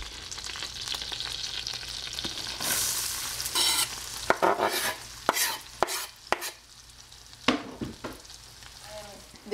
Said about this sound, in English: The onions are in the pan,